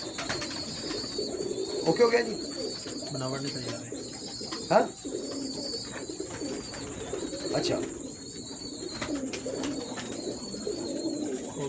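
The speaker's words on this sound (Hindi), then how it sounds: "ये गोल्डन कबूतर आ गया जी।" Pigeons coo softly in a breeder's loft while golden pigeons are shown, their low repeated calls scattered beneath ongoing conversation in Hindi or Urdu.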